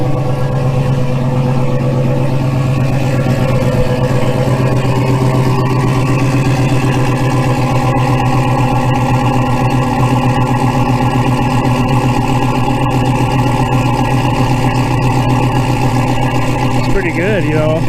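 An old car engine idling after sitting for 15 years, running on old gas: a steady, loud rumbling idle with a slightly uneven throb, throughout.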